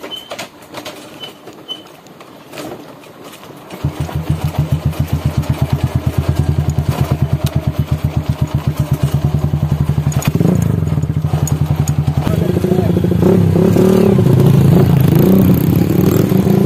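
A motorcycle engine on a village road near the Garut–Cianjur border starts up after a quiet moment, then runs with a rapid, close pulsing beat that rises in pitch as it revs and pulls away under load.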